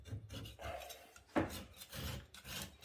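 A scraper drags bubbled paint stripper off old painted wood in a bedroom of an ancient Tuscan villa, with short, uneven rasping scrapes and a sharper scratch in the middle, faint and close.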